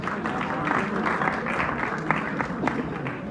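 Applause from an audience at a Punjabi gathering in Lahore, welcoming speaker Mohni Basra to the stage, steady and fairly loud throughout, with some crowd murmur mixed in.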